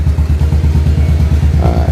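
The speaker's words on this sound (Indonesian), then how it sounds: "Ini motor udah bisa hidup dan tetapi masih agak pincang ya." Honda Shadow motorcycle engine idling unevenly after a CDI repair, with a steady loud low-pitched chugging pulse that is close and continuous, holding throughout with no voice over it.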